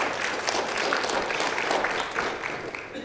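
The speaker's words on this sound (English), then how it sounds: "Let's give her a round of applause again." An audience at a mayor and council meeting gives a dense round of applause, many hands clapping at once in a continuous, fairly loud wash.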